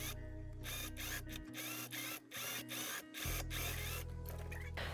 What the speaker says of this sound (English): And I can sew this together.